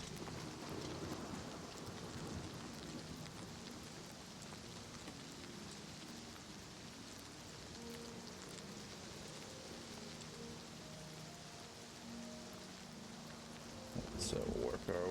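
Steady rain and storm noise on a stormy night in Cyrodiil, the game world of an Elder Scrolls title, a continuous broadband wash with a brief louder burst near the end.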